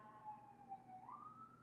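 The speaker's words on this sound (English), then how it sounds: "That probably is the ambulance." Ambulance siren wailing far off outdoors, its rising and falling tone faint and steady throughout, with no talk over it.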